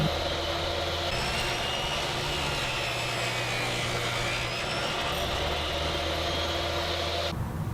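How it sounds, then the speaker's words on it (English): Table saw trimming wooden pieces for a tablet stand, a steady motor drone with a high whining cut running close and continuous, ending abruptly. "I'll clean them up on the table saw."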